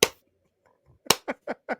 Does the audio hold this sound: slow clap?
yes